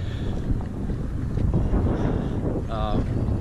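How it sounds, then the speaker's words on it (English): Gusting wind at Whalon Lake buffets the microphone beside a small fishing boat, a steady low rumble that swells and eases, with faint voices and a brief tonal squeak mixed in. "Got winds kind of gusting, so hopefully that won't be a factor too much on our little boat"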